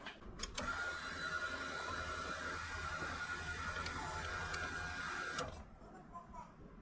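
A Suzuki fuel pump runs while priming the fuel system, giving a steady mechanical whine and hum for about five seconds before cutting off, close and fairly faint, with a few brief clicks.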